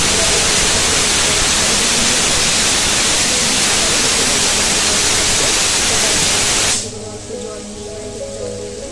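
Ginger, garlic, tomato and green chilli fry in hot oil in a pan, making a loud, dense, continuous hiss close by that cuts off abruptly near the end, leaving a much quieter background.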